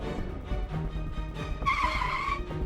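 A car's tires squeal sharply during a fast U-turn, a high screech rising near the end after a rumbling engine and shuffling sounds, close and loud, with no talking over it.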